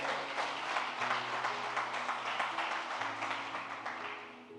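A church congregation applauds loudly together, a dense steady wash of many hands clapping that fades slightly toward the end, with organ or keyboard chords sounding beneath.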